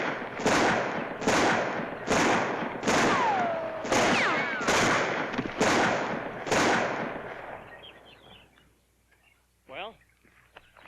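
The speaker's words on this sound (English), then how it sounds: "I didn't think anybody could shoot like that." Gunshots ring out in a 1969 western film, about seven loud, evenly spaced blasts roughly one per second, each with a sharp crack and a decaying echo, followed by quieter sounds and a brief voice near the end.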